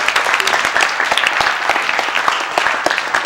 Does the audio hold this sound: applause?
yes